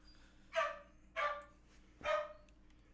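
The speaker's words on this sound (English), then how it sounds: "I'm gonna end this pretty quick while the dog's barking" A dog barks three times at a steady pace, loud and fairly close, over a low background hum with no talking.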